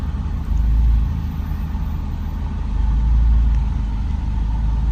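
2015 Scion tC with a front motor mount idling low, a steady mid-pitched engine hum that swells and eases slightly, close and alone with no voices.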